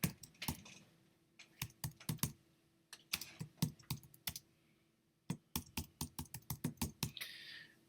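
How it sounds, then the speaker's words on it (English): Fingers tap on a computer keyboard in quick, uneven bursts of close, crisp key clicks, broken by short pauses and one longer gap before a final flurry. "And then I can click inside there and type in something."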